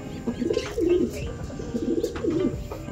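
Breeding pigeons in a loft coo softly and repeatedly, low rolling calls close by with steady background hum.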